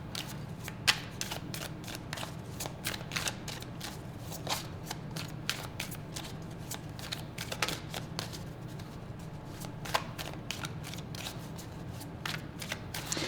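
Tarot cards are shuffled close up in a quiet room, a fast steady run of crisp riffling flicks and soft slaps that goes on without a break.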